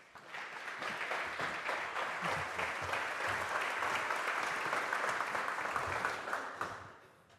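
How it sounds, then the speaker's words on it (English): A warm round of applause from a conference audience at an ocean conservation event, steady dense clapping that swells in, holds evenly for several seconds, then tapers off at the end, with no voices over it. "Please give him a warm round of applause"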